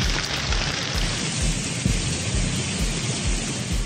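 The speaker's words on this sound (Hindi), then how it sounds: "मुल्तान में भी तेज बारिश और जालाबारी, जमीन पर गिरते ओले मोतियों का मंजर पेश कर रहे थे।" Heavy rain and hail pour down in a dense, loud, continuous roar with low rumbling thumps underneath, steady and close throughout with no talking.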